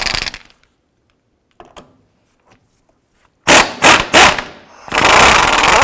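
A nut comes off a control arm bolt on a 2005-10 Jeep Grand Cherokee, with a faint tap and a few quiet clicks followed by loud, close ratcheting bursts and then a sustained grinding rattle.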